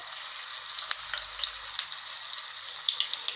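Marinated chicken deep-frying in hot oil in a frying pan gives a steady, bright crackling sizzle with scattered sharper pops, even and close throughout, with no talking.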